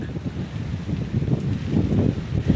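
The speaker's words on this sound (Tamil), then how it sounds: "ஃபுல்லாக காற்று அடிக்குது மக்களே" Gusty wind blows across a steep hillside near Palani, a steady low rumbling buffet against the microphone that swells louder toward the end, with no talking.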